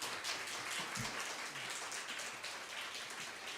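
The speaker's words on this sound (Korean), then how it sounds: "우리 환영의 박수로 맞이하도록 하겠습니다." Steady, dense applause from a church congregation welcoming a missionary, a continuous patter of many hands clapping at moderate distance, even and sustained throughout without talk.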